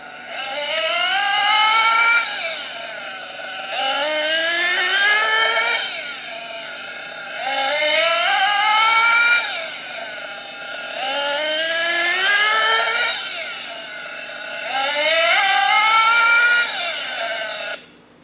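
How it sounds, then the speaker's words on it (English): An engine being broken in with heat cycling runs close and loud, revving in five sustained bursts separated by short quieter dips, in an even repeating rhythm with no talk. "So now you've seen us do the first 4 tanks, heat cycling the engine, idling it."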